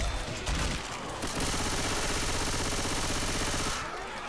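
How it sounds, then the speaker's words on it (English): Guns fire at zombies in the video game Left 4 Dead 2, a loud, steady burst of rapid automatic shots lasting a few seconds amid dense, close gameplay noise. "Shooting some damn zombies."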